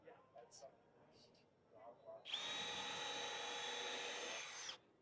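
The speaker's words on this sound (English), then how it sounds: "we're going to drill a hole, and then with the same tool, we're going to drive the screw" A power drill whines steadily for about two and a half seconds, boring a hole for a screw, after some faint talk and handling noise.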